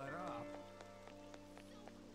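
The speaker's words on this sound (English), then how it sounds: "it's raining today." Rain falling in the video game Persona 5 Royal, a soft steady patter with regular faint drip accents, alongside tonal game background music, heard with no voices.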